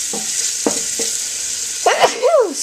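Chicken fries in oil in a pan with a steady, loud sizzle and crackle. Short scraping stir noises sound over the top, and a voice briefly cuts in near the end.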